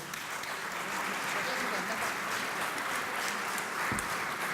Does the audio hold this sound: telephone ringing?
no